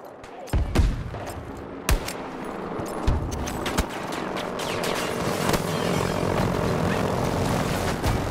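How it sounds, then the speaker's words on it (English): Battlefield 2042 gameplay with enemy helicopters, where a continuous rotor and engine drone builds steadily under sharp bursts of gunfire and explosions, loud and close. "takes out two enemy choppers"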